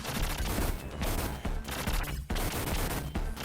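Rapid bursts of gunfire from the Contra Hard Corps video game, dense and loud, with continuous shooting broken by a few short gaps.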